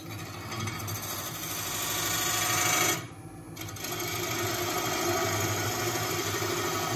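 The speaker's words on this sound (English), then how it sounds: "You can also use a detail gouge and come in." Detail gouge cutting into a 14-inch wooden bowl spinning on a lathe, a close, continuous rough scraping hum over the machine's drone, broken by a brief pause near the middle.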